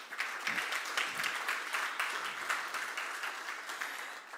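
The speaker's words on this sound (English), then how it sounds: "I think that deserves a round of applause" An audience at a poetry gala breaks into steady, full applause, many hands clapping together in a continuous wash that holds at an even, moderate level throughout.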